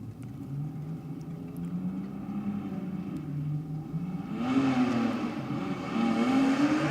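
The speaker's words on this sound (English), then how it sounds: "nitrous fed Commodore Ute down there on the start line" Nitrous-fed Holden Commodore ute on the start line at Sydney Dragway, a steady droning engine that rises into a louder revving roar partway through, heard from some distance.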